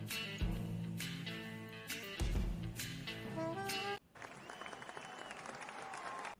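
A golf clap sound effect, a soft, sparse patter of polite clapping, comes in for the last couple of seconds after a stretch of tonal music that cuts off abruptly.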